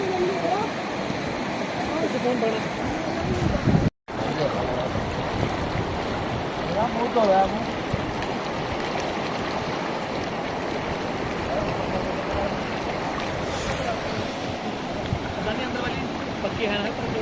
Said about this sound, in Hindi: फिलहाल तो तुम इस बहते हुए पानी की आवाज सुनो।